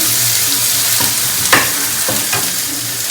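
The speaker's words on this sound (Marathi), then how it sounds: "तर मस्त फ्राय होऊ द्यायचं मोहरी, लसूण आणि हिरवी मिरची." Mustard seeds, garlic and green chili frying in hot oil for a bamboo shoot dish, a loud close, continuous sizzle broken by a few sharp crackles and spoon scrapes.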